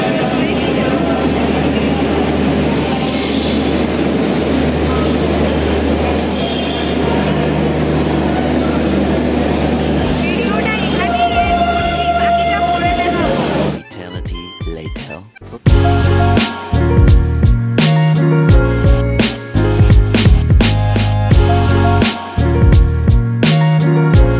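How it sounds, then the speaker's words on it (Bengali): A train rumbles into a station with heavy low noise and rail clatter, followed by a sharp drop, then louder metallic screeching and clanking as it pulls near. "দেখতেই পাচ্ছ ট্রেনটা চলে আসছে।"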